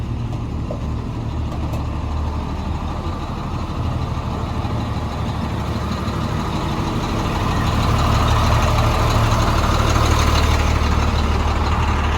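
A heavy truck engine, loaded with about 27 tons of marble, rumbles steadily, rising slightly in loudness as it pulls away, with no talking over it.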